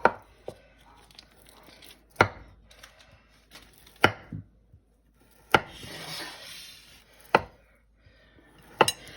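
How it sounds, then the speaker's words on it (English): A knife chops through frozen kielbasa in sharp, separate cracks, with a brief rough tearing rasp midway and scattered lighter scrapes between strokes. "I just snap it and then I cut it into slices, about an inch slice."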